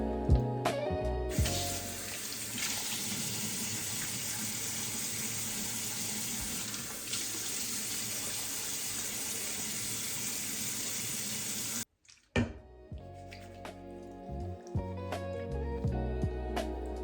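A bathroom tap runs steadily for face washing in the morning, a close hiss of flowing water for most of the stretch. It cuts off abruptly, and then come the scattered splashes and drips of hands and water at the sink.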